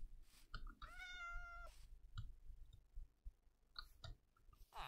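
One clear meow from a cat in Minecraft, a little drawn out, followed by scattered soft clicks and small game noises.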